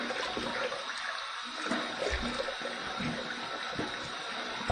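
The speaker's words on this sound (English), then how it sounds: "Here's my warm water rinse." Warm water running from a tap for a rinse after shaving, a steady splashing, trickling stream heard close and alone, with small bursts of spatter throughout.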